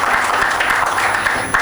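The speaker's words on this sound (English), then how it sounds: "I request people to clap a little louder." Audience applause at a life insurance awards ceremony, a dense, steady wash of clapping that fills the moment without a break, loud and close.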